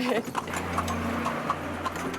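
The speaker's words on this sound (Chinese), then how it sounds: "规律的马蹄声代表着过去与现在同时并存在这座城市里。" Carriage horse hooves clip-clop at a steady, regular pace nearby over a low engine rumble, on a street in Lampang, Thailand.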